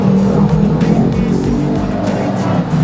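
Road traffic passes a flyover construction site in Davao City, with cars rolling by nearby in a loud, continuous wash of engine and tire noise.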